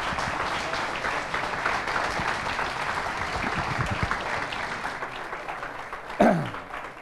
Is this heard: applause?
yes